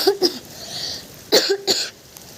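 A person coughs during a rainy-day vlog: a short cough near the start, then two sharp, close coughs about a second later, with quiet pauses between them.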